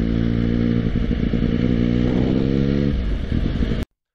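A motorcycle ridden on the road while overtaking, its engine a loud, close, steady drone with wind rush that cuts off abruptly near the end.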